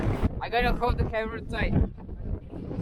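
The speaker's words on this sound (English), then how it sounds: "it's super windy" Strong wind on New Zealand's South Island in winter buffets the microphone with a steady low roar as a person speaks over it, the rumble continuing after the talking stops.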